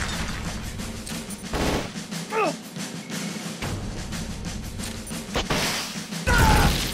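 Stinger homing missile fired in the Metal Gear Solid: Peace Walker video game, heard as a few sharp launch bangs and crashing impacts with a rising whistle, loud and close among game effects.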